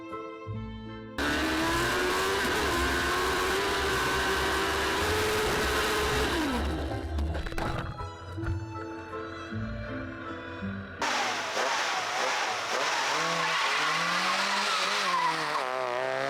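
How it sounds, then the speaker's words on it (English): Loud engines of rally cars at a hill climb roaring and revving, tyres skidding and squealing as they race past, sustained and close, with shifts in pitch as they pass. "we caught some of the cars at the morning rally event"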